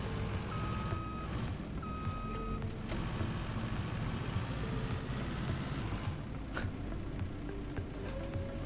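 Forklift in a simulator game driving along with a repeating electronic reversing beep over a constant low motor hum, beeps recurring in short regular bursts at moderate level, no voices.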